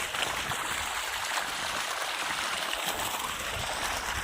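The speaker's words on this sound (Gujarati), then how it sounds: "અત્યારે દો ઝારમાં પાણી શરૂ છે" Irrigation water runs through a farm channel as a steady, fairly close rushing wash that continues without a break.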